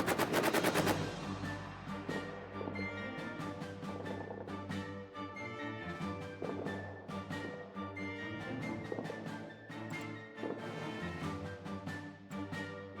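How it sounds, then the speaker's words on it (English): Machine guns fire in the trench-warfare video game All Quiet in the Trenches, a dense opening burst followed by repeated rapid volleys and scattered shots that carry on throughout, fairly loud with no voices. "Machine gun lighting up."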